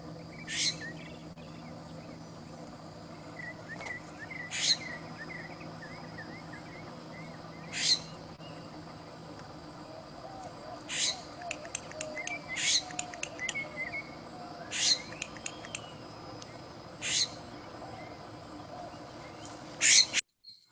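A scrub-jay gives a series of sharp clicking hiccup calls, repeated every few seconds at a moderate distance over faint outdoor background.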